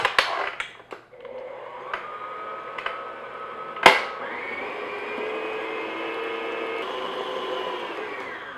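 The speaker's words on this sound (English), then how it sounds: "I'm just going to beat that in, just on medium-low speed, just until it's all mixed together" Electric hand mixer beating pumpkin cake batter at medium-low speed: a few clicks and knocks against the bowl, then a steady whirring motor hum that runs evenly to the end.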